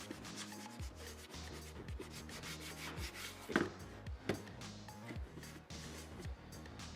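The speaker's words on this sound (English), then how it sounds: "So now I'm just going to give them a proper rub to the helmet" A Scout Trooper helmet rubbed by hand, a steady close scrubbing friction with repeated back-and-forth strokes and a couple of louder scuffs partway through.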